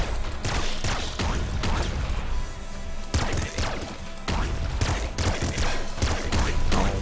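Rapid assault rifle fire in the top-down shooter Nuclear Throne, a dense, loud stream of shots with crashing impacts, cutting out briefly twice before resuming.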